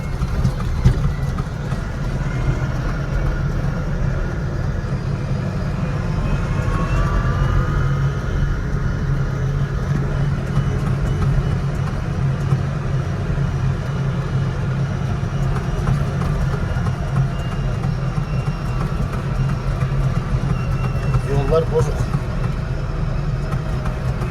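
Continuous low engine rumble of a Landini 5-120rs tractor driving with automatic gear shifting, steady and loud throughout with faint mechanical whines on top.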